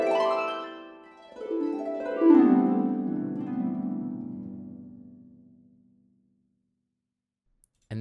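Synchron Harp sample library playing a whole tone scale: a descending glissando-like run of plucked harp notes, a second sweep, then a long ringing decay fading to silence before a brief sound at the very end.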